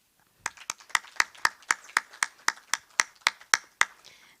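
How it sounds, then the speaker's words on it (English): A steady run of about a dozen sharp, evenly spaced hand claps at the Kenyan constitution's 10th anniversary commemoration, close and fairly loud, with no voices. "May we have applause?"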